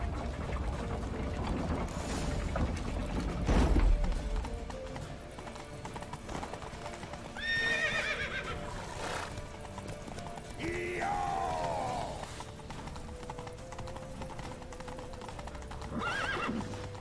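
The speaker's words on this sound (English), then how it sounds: "Why you gotta be so slow on horseback?" In the video game The Witcher 3: Wild Hunt, horse hooves clip-clop steadily throughout while a horse whinnies loudly several times, over a busy background with mechanical clicks.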